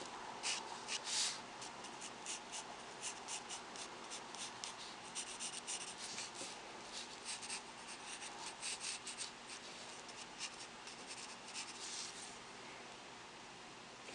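A relaxed figure being drawn by hand, with steady close scratching and rubbing of a pencil on paper that carries on for the whole stretch.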